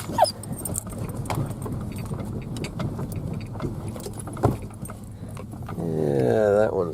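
A dog rides inside a car, its whine rising near the end over a constant low road and engine rumble, while people talk nearby.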